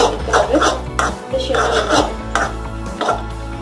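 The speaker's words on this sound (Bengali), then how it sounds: "নাড়িয়ে ঢেকে দিতে হবে।" Tomato chutney stirred in a cooking pot with a spoon, then covered with a lid: repeated scraping and clinking of utensil against metal in close bursts, with a few louder clanks.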